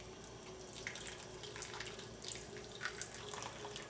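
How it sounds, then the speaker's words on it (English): Slow stream of water from a removable nozzle soaking into freshly potted bonsai soil, a steady soft trickling hiss with faint drips throughout, no talking. "You're going to want to just use a very slow stream of water at first to help the soil settle in."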